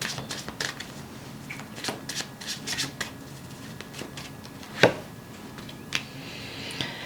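Tarot cards being shuffled by hand, a quiet run of soft riffling flutters and taps with a sharper snap midway, close and alone.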